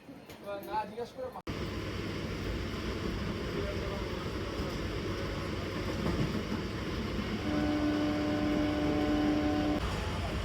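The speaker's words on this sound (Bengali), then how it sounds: "চলো, আমার ট্রেন অলমোস্ট আসতেই যায়।" A train pulling into a busy station between Ashoknagar and Gobardanga in West Bengal, a steady loud rumble with rising level and a sustained tonal whine or horn near the end, after a brief burst of talk at the start.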